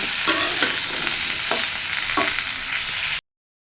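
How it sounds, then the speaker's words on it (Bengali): Vegetables and tomato frying together in a pan, a loud continuous sizzle broken by a few sharp scraping stirs, heard alone without voices. "টমেটো একসাথে সব তরকারি সব তরকারি একসাথে দিয়ে ভালো মতো ভেজে নিব"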